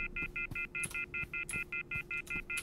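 A guard's phone in a jewellery store heist video game gives out a rapid, evenly spaced series of about fourteen short electronic dial-tone beeps, close and clear, with no talking.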